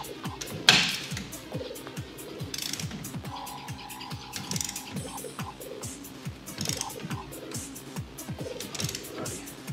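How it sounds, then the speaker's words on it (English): A ratchet clicks in a steady rapid rhythm, tightening the U-bolts on the rear suspension of a 2012 Dodge Ram 2500 during a BDS 3-inch four-link lift install, close up, with shop noise behind. "you're gonna torque your U-bolts down to 125 foot-pounds."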